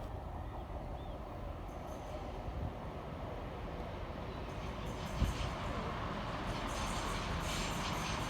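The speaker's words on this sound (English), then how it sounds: "Arriving next into the station is 170-101, working the 1251 cross-country service" A steady low rumble of a Class 170 cross-country passenger train rolling into Nuneaton station, heard from the platform at moderate distance, with a faint clank partway through.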